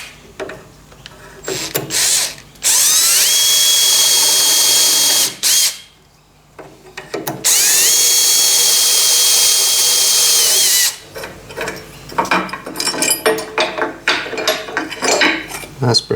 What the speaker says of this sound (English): So now I can transfer these 5mm holes through the steel frame here